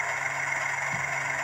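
A Hornby TTS sound decoder in an OO gauge class 31 diesel locomotive model plays a steady, loud engine drone with a constant tone, heard alone.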